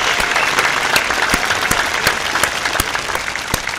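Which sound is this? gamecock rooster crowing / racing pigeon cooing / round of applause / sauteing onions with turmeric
round of applause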